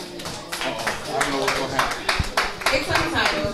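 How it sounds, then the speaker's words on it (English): Audience at a birthday party in Harlem claps for a poet about to perform, a steady run of sharp hand claps with loud talking and voices mixed in throughout. "Y'all, clap it up for my girl, Tara."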